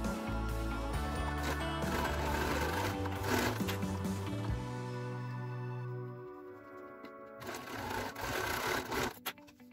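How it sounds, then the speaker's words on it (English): A sewing machine runs steadily, stitching pieced fabric for a Halloween pumpkin quilt block with a quarter-inch seam; the motor hums continuously, then pauses and restarts near the end. "I'm going to pin these pieces together and sew them all down using a 1/4 inch seam allowance."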